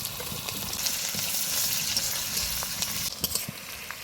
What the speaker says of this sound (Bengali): তেলটা গরম হয়ে গেছে, এবার ফোড়নটা দিয়ে দিব। কেটে রাখা পেঁয়াজটা দিয়ে দিব।